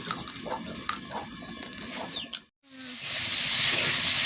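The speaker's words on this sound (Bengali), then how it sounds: "আলুটা কষাই করছি" Potatoes stir-frying in a pan while crab is being cooked, a steady loud sizzle that swells after a brief gap and runs on continuously; before the gap come scraping, clinking noises.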